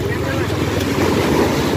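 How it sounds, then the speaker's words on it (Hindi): Sea waves breaking against the shore on a windy coast with green water, a steady close wash of surf mixed with wind buffeting the microphone, continuous and fairly loud with no talk. "भाई देखो कैसे लहर मार रही है, पानी इतना हरा हरा सा है ना इधर।"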